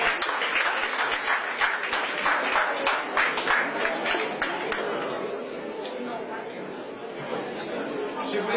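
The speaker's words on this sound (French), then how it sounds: "On les applaudit, s'il vous plaît" Applause from an audience at a French-language speech or ceremony, clapping strongly at first and then thinning to scattered claps under a murmur of voices and chatter.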